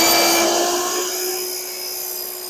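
A compound miter saw cutting wood: a loud high motor whine with a strong steady tone that slowly winds down over a couple of seconds, close by and with no voices.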